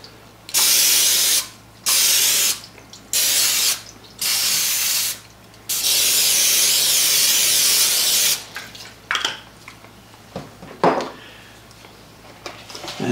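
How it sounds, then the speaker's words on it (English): Five long hissing bursts of cooking spray onto a 9x13 baking pan, each a second or two, followed by a steadier spray and then quieter clatter and scraping nearby. "I'm going to spray my 9x13 pan"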